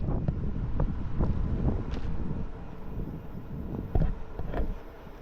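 Gusts of wind buffet the microphone at the top of a climb on the Lewis and Clark Trail, with low, rumbling blasts swelling and easing irregularly and occasional sharp knocks.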